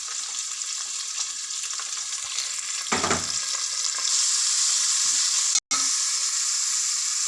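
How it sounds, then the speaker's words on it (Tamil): Green chillies, small onions and whole garlic cloves sauté in hot oil in a pan, a steady close sizzle with occasional stirring scrapes and one brief break, no voices. "எல்லாத்தையும் போட்டு நல்லா வதக்கணும்."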